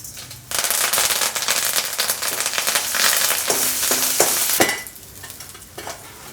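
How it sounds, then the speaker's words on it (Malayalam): Curry leaves and two dried red chillies hit hot oil with urad dal for a jackfruit seed, drumstick and potato thoran, giving a loud, close, continuous crackling sizzle with sharp spitting pops that eases off toward the end. "ഈ സമയം നമുക്ക് കരിവേപ്പിലയും 2 ചുവപ്പ് മുളക് കൂടെ ഇടാം"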